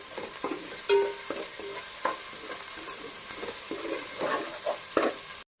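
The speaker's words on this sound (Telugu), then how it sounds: "పీతల కూరకి మంచి సువాసన వచ్చేంత వరకు వేయించుకుందామండి అల్లం వెల్లుల్లి పేస్ట్లో నుంచి" Ginger garlic paste for a crab curry frying in hot oil, a steady close sizzle broken by repeated scraping stirs of a spoon against the pan, with no voices.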